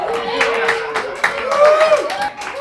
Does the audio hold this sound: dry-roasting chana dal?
no